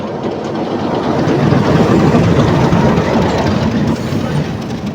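Kurigram Express local train in motion, a dense and loud continuous rumble of the carriage and wheels with a faint engine drone, steady for the whole stretch.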